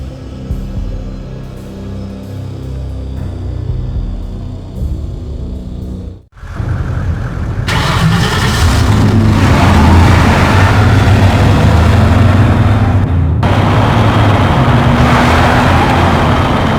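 A black Mercedes-Benz coasts slowly down a street in the game Max Payne, its engine a steady low rumble that holds loud and close for most of the stretch, with a brief dip and a sharper change partway through.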